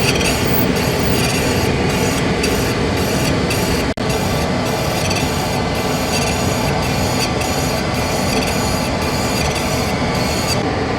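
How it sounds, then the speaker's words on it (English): A carbide threading tool is ground on a bench grinding wheel, producing a loud, continuous rough grinding roar with a faint rhythmic pulsing and one brief dropout. "After a bunch of grinding, I can feel my wheels starting to plug up the slightest bit."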